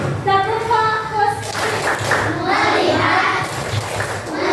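Indonesian elementary schoolchildren in a classroom doing a rhythmic focus clap, patterned hand claps mixed with children chanting together, loud and close.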